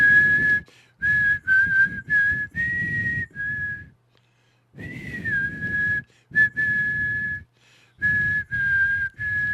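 A person whistles a melody in short phrased bursts, clear and close, with one longer pause midway and no talking over it.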